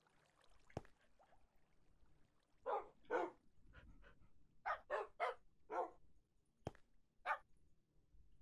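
Tamed dogs in the Minecraft video game whimper and yip in a run of short, faint bursts, roughly eight cries spread over several seconds against a quiet background.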